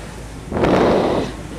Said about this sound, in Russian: Ветер усиливается, волна усиливается, и лодку начинает бросать,